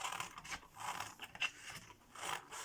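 Faint, quick crisp snips and scrapes repeat in an uneven rhythm as scissors cut a half-circle out of paper close by.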